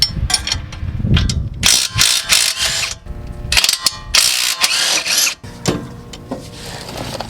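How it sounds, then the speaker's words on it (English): A ratchet wrench with a 24mm socket clicks rapidly in bursts while loosening a coilover bolt on a Mitsubishi Galant/Eclipse, the metallic ratcheting loud and close with brief pauses between runs. "you're also gonna need a wrench on the back side of it to keep this from spinning"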